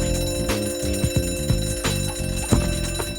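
A shop's burglar alarm bell rings loudly and continuously nearby, a harsh metallic clangour with a rapid hammering pulse throughout.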